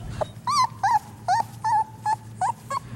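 Livestock guardian puppies whimper nearby in a rapid series of about nine short, high-pitched whines with small gaps between, each one clear and moderately loud.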